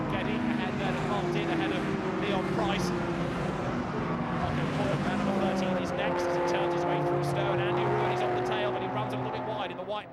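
GT race cars, Porsche and Ferrari among them, race at Silverstone, with engines roaring continuously and revving through a passing pack. Commentary runs over the engine noise throughout.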